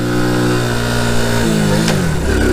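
A car engine picks up speed while driving, its steady loud drone sweeping through rising and falling pitch as it shifts into third gear, heard close with no voices.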